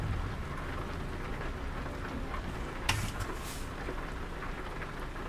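Steady rain hissing in a trucking video game, an even wash of drops throughout with one brief louder crackle partway through.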